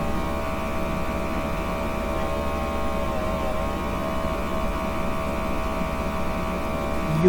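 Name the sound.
air conditioners humming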